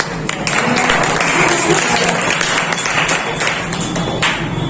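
An audience at an Independence Day school event claps as a steady, dense patter of many hands that runs the whole length, with a few sharper taps standing out.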